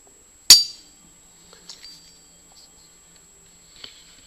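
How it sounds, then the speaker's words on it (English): A magnet snaps onto an iron meteorite with one sharp, bright metallic clink up close, then a few faint scraping taps as it settles and shifts. "this is a magnet attaching to a meteorite. You can hear the metal clink in it."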